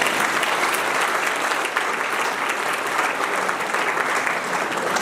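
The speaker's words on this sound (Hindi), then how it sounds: "सब लोग अपने लिए ताली बजाएं।" Sustained applause from a large audience at a spiritual gathering, steady and dense throughout with no speech on top.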